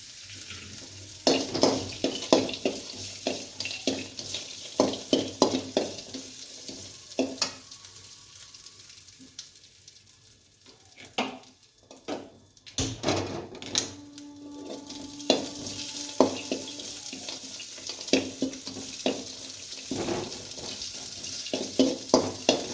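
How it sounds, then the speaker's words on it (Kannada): Cashews frying in a pan for sweet pongal, a steady sizzle with repeated stirring and scraping knocks, a brief lull, then louder clatter and tap-like water noise, close and with no talk. "ಗೋಡಂಬಿ ಹಾಕೋಣ."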